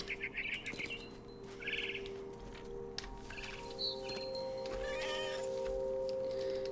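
Short electronic cat meows and chirpy bird calls from What Remains of Edith Finch come in bursts over a steady humming game background.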